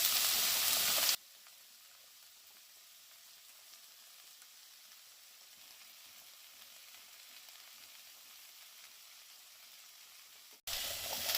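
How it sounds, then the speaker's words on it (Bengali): Winter vegetables fry together in a pan for vegetarian khichuri, giving a steady, soft sizzle that runs evenly for several seconds between louder bursts at the start and end. "একই সাথে সব আমি ভেজে নিচ্ছি হালকা হাতে।"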